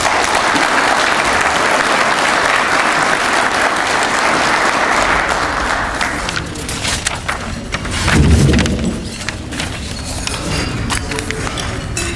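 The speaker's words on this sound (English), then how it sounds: "Let's have a big round of applause for Eric." Loud, sustained applause from an audience honouring an award recipient at an agricultural association's 75th annual general meeting, steady dense clapping that thins slightly toward the end with a brief swell near the close.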